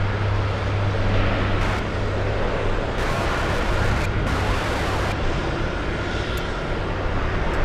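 A JetBlue airliner taxis at Boston Logan airport, a steady low jet engine drone with a constant hum running through it, broadband roar holding at moderate loudness throughout, heard from a distance outdoors.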